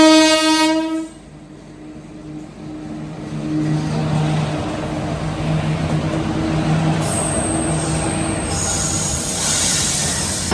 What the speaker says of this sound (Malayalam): ഓക്ക എക്സ്പ്രസ് എന്തായാലും ഇപ്പോൾ ഓവർടേക്ക് അടിക്കും.